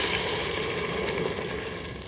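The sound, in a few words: food sizzling and sautéing in an Instant Pot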